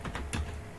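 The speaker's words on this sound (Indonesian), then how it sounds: "proses kita melakukan typing teks yang dicari itu kan cukup lama" Brief, faint clicks of typing on a computer keyboard, a few quick keystrokes close by in a quiet room.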